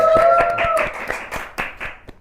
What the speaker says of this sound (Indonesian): Tepuk tangan dulu untuk Bang Zul.